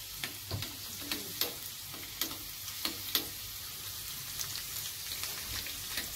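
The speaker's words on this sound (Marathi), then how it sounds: "तूप तापल्याच्या नंतर त्याच्यात लसूण टाकलाय। लसूणला थोडासा गुलाबी होऊन द्यायचा आहे।" Garlic frying in hot ghee gives a steady close sizzle and crackle, with soft stirring clicks and small pops scattered through it.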